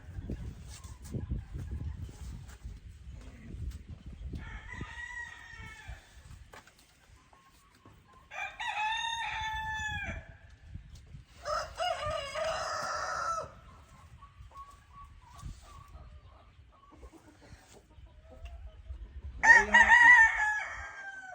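Chickens cluck and crow in bursts over several seconds, with a rooster's loud crow near the end, against a low rumbling background.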